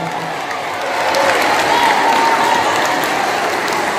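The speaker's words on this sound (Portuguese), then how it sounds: "Vou ter uma salva de palmas para elas" An audience at a children's show in a cinema applauds the mothers, steady clapping with some crowd cheering that swells after the first second and holds strong.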